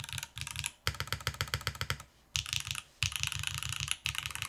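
Fast typing on a NIUNIU HX-40 top-mounted mechanical keyboard, a close, crisp stream of clacky keystrokes in quick bursts separated by brief pauses, heard alone.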